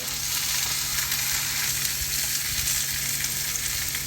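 Salmon on a grill sizzles in a dense, continuous close-up frying crackle, steady and fairly loud from start to finish with no voices.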